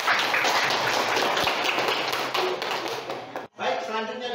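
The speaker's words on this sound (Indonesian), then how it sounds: "Kita berikan aplaus untuk kelompok" Classroom applause for a presenting group of students: dense, continuous clapping from many hands filling the room, fading out near the end with voices around it.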